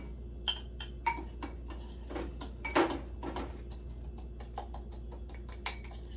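Kosher salt and spices tipped into a bowl and stirred for a slow cooker rib rub, heard as close light clinks, scrapes and taps of utensil against bowl, scattered irregularly with no talking.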